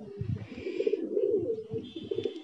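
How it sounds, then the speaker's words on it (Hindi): Pigeons of fancy flying breeds such as Sheesham, Lalsire, Kaldume and Golden Bajre coo in low, rolling bursts close by, with the calls overlapping and repeating steadily and some fainter higher chirps behind. "ये सब गर्मी के उड़े हुए कबूतर हैं मेरे पास जी"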